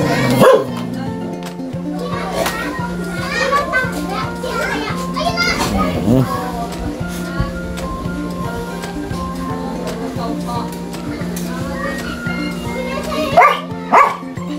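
A playful pet dog barks and yips in a home kitchen amid children's voices and chatter, the barks coming in short bursts under steady speech and background noise.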